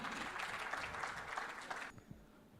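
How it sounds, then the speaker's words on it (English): Audience applause at a brand awards ceremony, a sustained burst of clapping from a room of people that holds for about two seconds, then cuts off sharply into quiet with a few faint thumps. "A round of applause for Miss Beena Banerjee."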